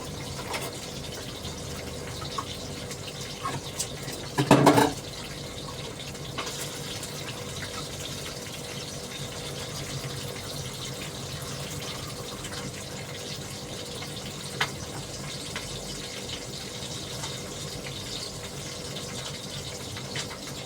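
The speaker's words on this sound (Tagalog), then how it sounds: "Strain ko tong corn. Alisin ko yung tubig niya para may sahog ako sa fried rice ko." Liquid from canned corn drains through a strainer as a steady, even trickle that runs for about twenty seconds, with one brief louder clatter near the start.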